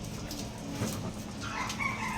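Chickens cluck and call faintly in the background of a quiet outdoor yard, with a soft steady ambient hum and no talking.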